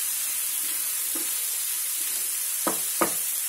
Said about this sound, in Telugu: 1 నిమిషం ఇలా వేయించడం,